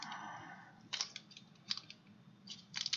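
Several crisp scissor snips cut through an orange plastic bag in short bursts, with brief crinkling between cuts, close and fairly quiet.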